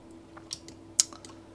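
Scattered computer keyboard key presses during 3D modeling work in Blender, a few soft taps and one sharper click, quiet and close over a faint background hum.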